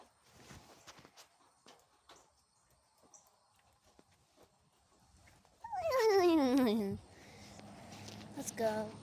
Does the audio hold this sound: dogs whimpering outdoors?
yes